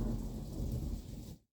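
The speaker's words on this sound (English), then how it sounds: "Now there's a bit of a thunderstorm going on outside." A thunderstorm rumbles outside with heavy rain, a deep rolling thunder over a dense wash of rainfall, heard through walls and cutting off abruptly.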